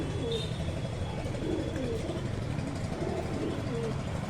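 A pair of pigeons kept at home cooing softly, low murmuring calls half buried in a steady wash of background noise with a faint engine hum.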